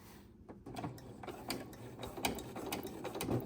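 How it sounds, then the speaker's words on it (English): A sewing machine stitches a rod pocket on a worship flag, needle set to the far right, running in a steady mechanical whir with small ticking clicks, moderately quiet and continuous. "put my needle all the way to the far right, and just stitch"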